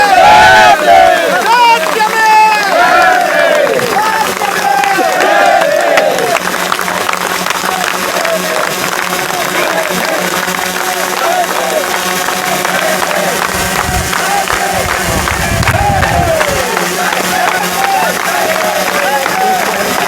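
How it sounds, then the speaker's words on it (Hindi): A large crowd at an India–Nepal friendship festival applauds and cheers for the chief guest, loud sustained clapping and babble filling a big pandal while a voice speaks over the noise. "आगे से पीछे तक तालियां इसी तरह बजते रहे"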